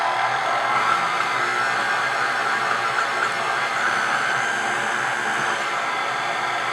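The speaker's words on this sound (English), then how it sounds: "Just mix them up to combine on low speed." Electric mixer on low speed combining dry cake ingredients for a homemade vanilla cake, with sugar, salt and baking powder, giving a steady continuous whirring hum for several seconds, close and loud, with no talk over it.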